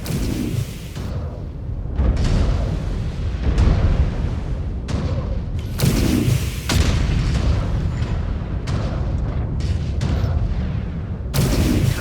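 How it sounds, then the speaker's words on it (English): Explosions from combat in the video game MechWarrior 5: Clans, heavy booming blasts and rumbling impacts that keep hitting back to back through the whole stretch, loud and dense with a few sharper bursts. "Or the explosions alerted them."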